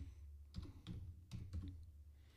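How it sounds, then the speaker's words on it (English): Typing on a computer keyboard, a short run of quiet key clicks in small clusters against a low hum, close by and without talking. "Let me type it in here."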